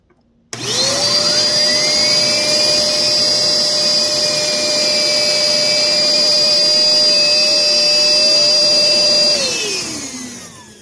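A homemade flywheel fan car spins up to a loud, steady high-pitched whine with a rising tone, holds at full speed for several seconds, then winds down at the end; no talking.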